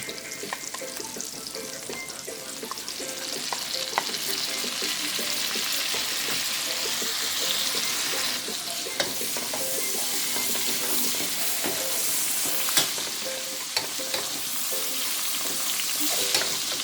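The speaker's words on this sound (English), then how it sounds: "So this is garlic with bacon now. I'm going to add the tomatoes." Tomatoes stirred into garlic and bacon frying in a pan for Jamaican-style steamed cabbage, a loud continuous sizzle with scraping stirring strokes, near and steady throughout without speech.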